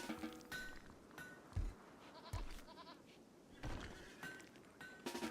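In the video game Rimworld, a goat bleats several times in short, separated calls, mixed with sharp bursts of game effects at a moderate, close level.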